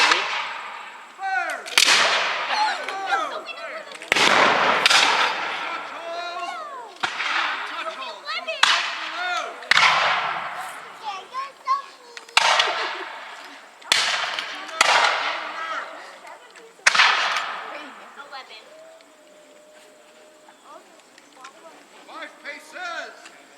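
Musket volleys at a War of 1812 reenactment, a series of sharp, loud outdoor cracks and booms fired irregularly, some in close succession, each echoing and fading before the next.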